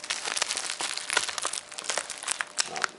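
Taped packaging torn and crinkled off a Namco game box, a steady close run of crackling plastic and ripping tape with no pauses.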